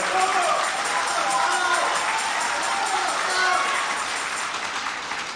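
A large political rally crowd applauds and cheers, a dense, steady roar of clapping and shouts that stays loud throughout, with a speaker's voice over it.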